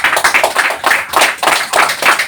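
A small group applauding at an evening UFO-day gathering in Chilca, close, loud bursts of clapping that swell and dip in several waves.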